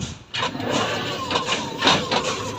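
The repaired motor of a small electric vehicle runs steadily, giving a continuous mid-pitched whir with slight rises and dips over background noise and no clear speech.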